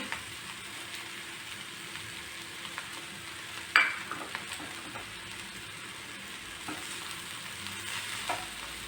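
Horse gram and grated coconut frying in a pan while being stirred, a soft steady sizzle broken by a sharp scrape or clink near the middle and occasional light stirring knocks, with no voices.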